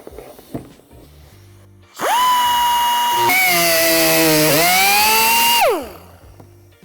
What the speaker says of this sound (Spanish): voy a hacer el recorte con la ayuda de una sierra circular